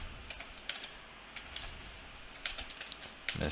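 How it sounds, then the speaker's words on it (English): Light clicking of computer keys on a keyboard, scattered taps in short irregular bursts, close and fairly quiet with no talking. "type enter 2 times"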